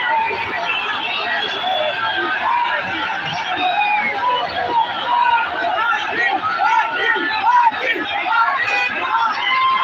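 A large roadside crowd gathers in Nanded for Manoj Jarange Patil's convoy of hundreds of vehicles, a dense, loud babble of many voices with shouts rising and falling continuously.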